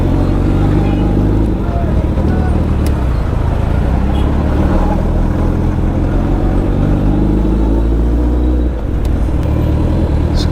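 Road traffic with car and motorbike engines rumbles steadily and loudly close by, a dense continuous drone with shifting engine tones and no clear break throughout.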